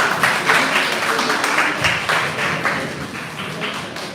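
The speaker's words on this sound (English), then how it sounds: "Please help me give them a round of applause." Applause for a panel at a women's event at Ikoyi Club breaks out as a steady patter of hand claps that carries on throughout and fades slightly toward the end.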